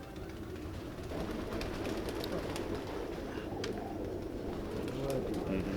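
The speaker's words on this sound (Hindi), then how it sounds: "ये मेरे कबग्गर कबूतर हैं" Kabgar pigeons coo in low, soft, repeated burbling calls close by, mixed with flapping and rustling and scattered sharp clicks, under a faint background hum.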